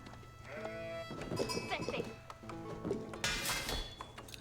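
Sheep bleat several times in the Age of Empires 4 video game, short wavering calls mixed with game clicks and effects, while someone talks over them.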